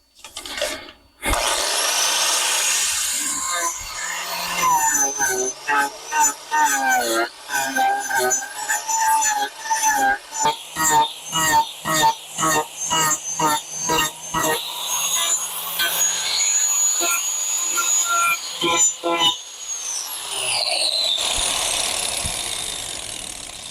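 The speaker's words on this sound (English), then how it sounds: "Shaper disc on the grinder." An angle grinder fitted with a shaper disc rough-shapes wood, a steady rasping, whirring grind broken by rapid rhythmic bursts as the disc bites, loud and close for over twenty seconds.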